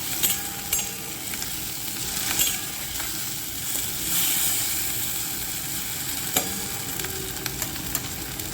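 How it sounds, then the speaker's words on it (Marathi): Spice masala sautés in hot oil tempering for drumstick amti, with a steady close sizzle broken by repeated scraping stir strokes and occasional sharp clinks of the spoon against the pan. "सर्व मसाला फोडणीमध्ये व्यवस्थित परतून घ्यायचा"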